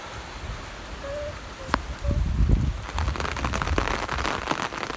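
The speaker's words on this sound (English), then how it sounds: "I need to get an umbrella and film this rain." Rain falls steadily and close by, a soft patter that turns heavier and denser halfway through, with scattered drops pattering on a nearby surface.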